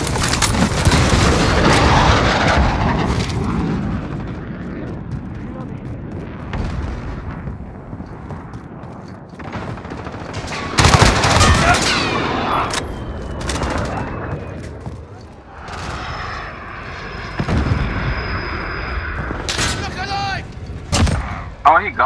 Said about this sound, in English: Got a VTOL on station, ready to deploy.